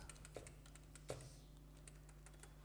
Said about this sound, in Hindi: मोबाइल नंबर टाइप कर दिया